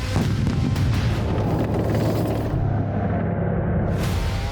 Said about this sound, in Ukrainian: Він приїжджає повз засідки, де сидять військові.